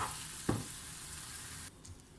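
Içli köfte filling sizzles steadily in a hot pan while being stirred, with one sharp scrape of the spoon partway through before the frying hiss drops quieter near the end.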